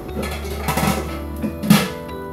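A metal lid settles onto a pot of kacchi biryani, giving a soft clink and then a louder clank near the end, close and brief over a faint background hum.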